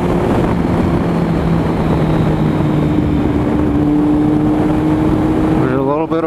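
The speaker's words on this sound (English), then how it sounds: "There's a little bit of burbling and backfiring when I let off the gas." A 2008 Kawasaki Z1000 motorcycle with a Danmoto Carbon GP exhaust, heard close as its steady engine drone slowly falls in pitch while decelerating, with a rough throaty edge and a sharp drop at the end.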